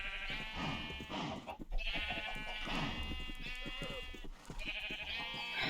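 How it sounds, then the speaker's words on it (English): Minecraft sheep bleat repeatedly in a blocky game field, several close, clear calls spaced across a few seconds over a steady background. "Come on, sheep."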